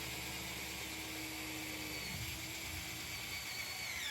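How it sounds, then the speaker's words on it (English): A self-tapping screw is driven into aluminum fender stock with a power driver, a steady, faint, high-pitched whine that grinds down in pitch as the screw bites partway through. "now the self-tapping screw. A little bit of pressure, and in it goes."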